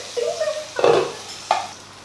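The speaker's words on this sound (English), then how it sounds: "I'm still sauteing then." Sweet corn and green beans sauteed in a pan, with faint sizzling under a few distinct scraping stir strokes and utensil clatters, close and alone.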